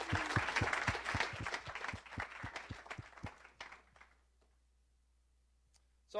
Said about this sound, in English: let's give a big round of applause for all the global sponsors